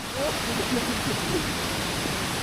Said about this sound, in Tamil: அருமையான அருவி மாதிரி ஒரு இடம் இருக்குதுங்க சவுண்டு பாருங்கள் எவ்வளோ ரம்மியமாக இருக்குது